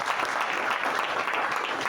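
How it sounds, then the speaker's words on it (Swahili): A church congregation claps together in a brief, dense burst of applause, steady and close, with no one speaking over it. "Pigia Yesu makofi mazuri."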